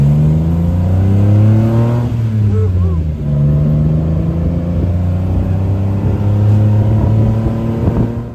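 An auto-rickshaw tuk-tuk motoring through Thai city traffic, its engine droning steadily close by with a pitch sweep as it makes a U-turn, while people talk over the noise throughout.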